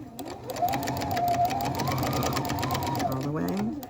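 A sewing machine back-stitching a fabric face mask, running in a fast, continuous mechanical whir with rapid needle clatter, briefly slowing as it reverses, while a person speaks over it.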